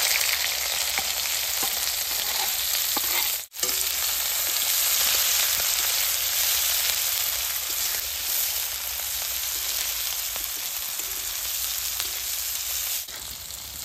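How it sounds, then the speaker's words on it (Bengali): Green chillies and onion hit hot oil over cumin for a meatless cauliflower curry, producing a loud, continuous close-up sizzle that drops out for a brief moment, then carries on evenly with no voices. "এখন কাঁচামরিচ পেঁয়াজটা দিয়ে দিব"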